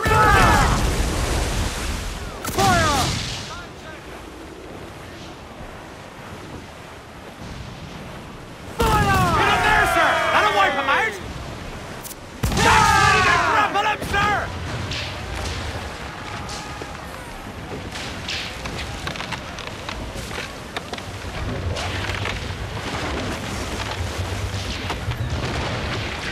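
Ship cannons firing in Assassin's Creed 4 Black Flag during a naval battle, several loud booming volleys in bursts with crackling debris and rumbling battle ambience between them, and shouting crew voices at times.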